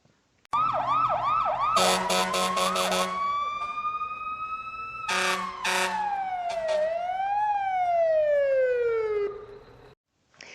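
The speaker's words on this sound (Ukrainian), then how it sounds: "Послухайте, як звучить сирена." A loud fire engine siren wails and yelps, switching between rapid warbling and long rising and falling tones, then cuts off abruptly.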